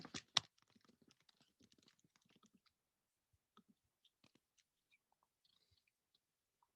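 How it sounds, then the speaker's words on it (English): Computer keyboard typing during an online Python class: a loud burst of clicks at the start, then sparse, light key taps scattered irregularly across the remaining seconds. "but stop typing for just 1 second"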